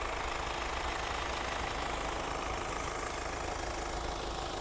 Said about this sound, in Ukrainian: Моторчик працює гарно.